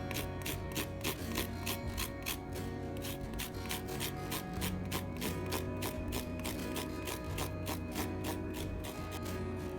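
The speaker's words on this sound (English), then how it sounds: "Just got a small grater, and I'm just grating the skin off the side of this lemon right into our sauce mix." Lemon skin scraped over a small grater for a sauce mix: a quick, steady run of close, rhythmic rasping strokes with no talking.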